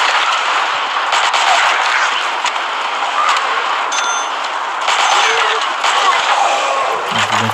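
Continuous automatic gunfire from the zombie shooter game Dead Trigger 2, a dense unbroken rattle of rapid shots holding steady for several seconds with a few louder bursts, with no talking.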